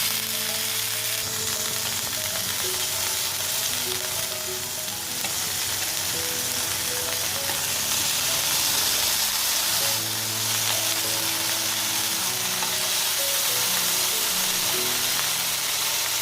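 Butter and olive oil sizzle steadily in a frying pan while tempeh ribs are cooked, a continuous hiss and crackle, loud and close, with occasional stirring sounds and no talk.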